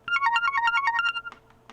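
Quick notes from a Memorymoog synth arpeggiator in unlatched down mode step downward in a repeating pattern, bright and even, then trail off into a few scattered blips.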